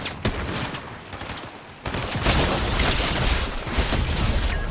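Rapid bursts of gunfire in a shooter video game, loud and close, with a quieter stretch before dense, sustained firing takes over, with no talk.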